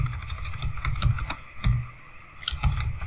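Rapid, uneven keystrokes clatter on a computer keyboard while React code is typed, with a few sharper key hits standing out; the sound is close, steady and free of talk.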